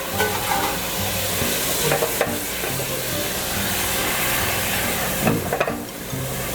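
Cognac hitting a hot pan to deglaze it, giving a loud steady sizzle and hiss with stirring scrapes and brief louder bursts of steam.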